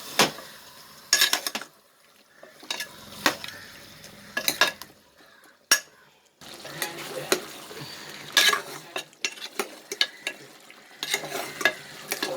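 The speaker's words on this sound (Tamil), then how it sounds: "இந்த மசாலா சேர்த்து ஊற சிக்கனை நல்லா வதக்கிடணும்." Chicken coated in masala is stirred and sautéed in a pan for Andhra-style country chicken; a spoon scrapes in irregular bursts over a soft, steady sizzle, close and clear, with no talking.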